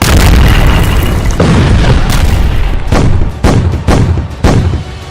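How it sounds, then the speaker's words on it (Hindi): Heavy booms from Israeli air strikes on Gaza at night, a loud rumbling blast followed by a series of separate sharp explosions, each with a trailing echo, close and powerful. "गाजा में रात का एक एक मिनट नए धमाके के साथ गुजरता है।"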